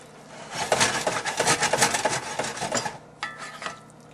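A spoon stirs Brussels sprouts with carrots and bacon in a pan, scraping and rustling in quick steady strokes for about three seconds, a brief pause, then a few more scrapes, close up with no talking.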